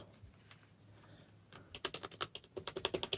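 Keys clatter on a Soundbot SS301 gaming keyboard, starting with a few scattered presses, then a quick, even run of crisp, clicky strokes close to the microphone.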